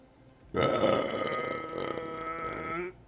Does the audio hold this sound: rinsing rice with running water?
no